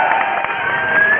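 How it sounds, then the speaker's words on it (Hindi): Loud applause and cheering erupts from a crowd at a local gym bodybuilding show for the posing contestants, a short dense burst of clapping with whistles rising over it. "भाई जोरदार ताली हो जाए लड़कों के लिए"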